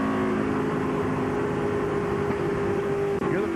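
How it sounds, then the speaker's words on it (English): Loud, continuous engine and tire roar of a NASCAR Winston Cup race car at Phoenix International Raceway as a tire goes flat, a steady mechanical drone with a brief dropout near the end. "Hear the tire go flat?"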